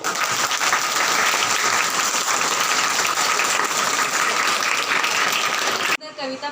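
At a Hindi Diwas 2023 school event, an audience gives loud, dense applause after a poem, the clapping sustained for several seconds before cutting off sharply, with a voice starting in just after.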